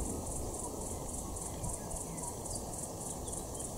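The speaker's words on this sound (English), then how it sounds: "as you may hear in the background, there are cicadas calling away." A steady, pulsing drone of redeye cicadas fills the background continuously, a dense shrill chorus with no pauses from the trees around, along a track at Organ Pipes National Park.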